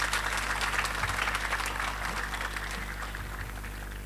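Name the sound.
audience applause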